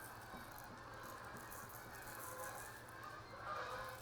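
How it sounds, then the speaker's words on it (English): Geese honk faintly in the distance over a steady rattling background noise, their calls thin and overlapping. "The geese are flying over."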